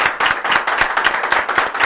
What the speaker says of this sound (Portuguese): vamos dar uma salva de palmas aqui